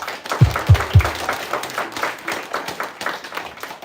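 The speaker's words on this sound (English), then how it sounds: "Let's get one more huge round of applause." Audience applause at a school public speaking competition, opening with a few sharp, close claps before spreading into a steady round of clapping from the crowd.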